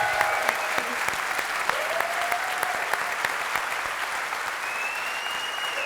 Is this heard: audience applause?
yes